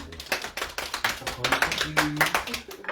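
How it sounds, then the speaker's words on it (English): An audience claps through a live show segment honoring a local business owner, with dense, uneven hand claps filling the space and a voice briefly audible over them. "Let's give him a round of applause."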